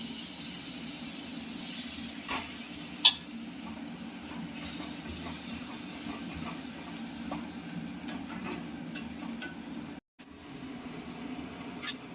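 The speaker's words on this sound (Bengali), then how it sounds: "হালকা একটু ডালের জল দিয়ে মশলাটাকে কিন্তু একটু সেঁকে নেবো" Spice masala sizzling in hot oil after a splash of dal water, with a steady soft hiss and occasional faint crackles and ticks throughout, close by and fairly quiet.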